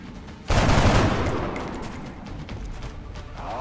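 A burst of sustained gunfire from XCOM: Enemy Within, starting abruptly and rattling loudly before tapering into a lingering rumble and decay, with no talk over it.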